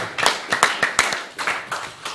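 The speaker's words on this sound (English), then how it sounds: "Clap it up." A church congregation claps in a steady rhythm, sharp and close, about three claps per second.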